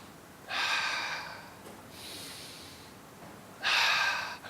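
Person breathing in deeply during a lesson on the lungs, with two strong, airy inhalations about three seconds apart and a softer breath between them, close and clear against a quiet background.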